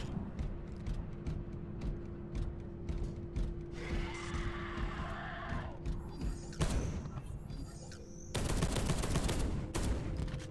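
Gunfire in the sci-fi shooter game Space Hulk: Deathwing, with dense bursts of shots in an enclosed ship corridor amid a steady droning game background, growing louder in the final seconds.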